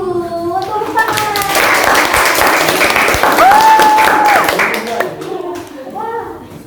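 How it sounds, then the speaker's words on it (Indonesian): Audience applause breaks out after a tied quiz score at a Q&A event: a dense, steady wash of clapping for several seconds, with voices and a few high squeals rising over it before it fades. "Tepuk tangan."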